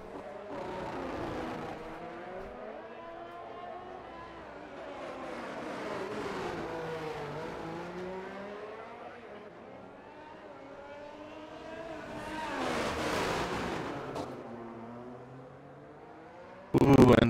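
Alfa Romeo Formula 1 cars race at the Azerbaijan circuit in the F1 23 video game, engines droning and rising and falling in pitch continuously, with a louder pass near the end and a sharp burst at the close, heard under commentary.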